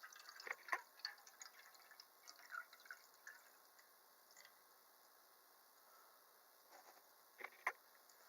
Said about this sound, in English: You're going to take your water and just simply add it to the tank.